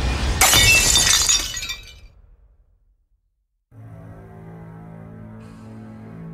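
A large glass vase shatters in a loud burst of breaking glass, with the crashing shards decaying into silence, followed by a low, steady ambient drone.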